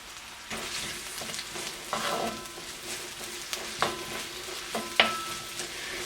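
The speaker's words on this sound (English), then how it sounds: "Go ahead and throw aromatics in here, garlic, and the shallots, and I'm going to throw the peppers in there too, and we're going to stir this up." Garlic, shallots and peppers frying for shrimp pad thai, a soft continuous sizzle broken by scraping and clinking stirs against the pan, fairly quiet and close, with no voices.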